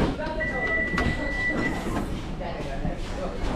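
A Kolkata metro train at Maidan station rumbles and screeches beneath talk on a platform, with a sustained tonal whine from the train.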